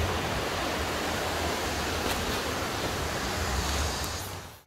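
Loud rushing water of a swollen river near a bridge, a dense steady roar of flowing current heard close and continuous, with no talking, fading abruptly at the end.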